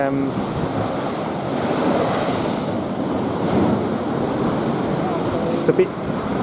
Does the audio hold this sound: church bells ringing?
no